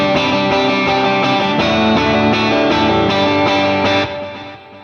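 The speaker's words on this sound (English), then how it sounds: "It's basically just hitting a big chord on the one of a measure." An electric guitar rings out a single big chord drenched in delay and reverb, the echoes pulsing steadily for several seconds before the tail fades away.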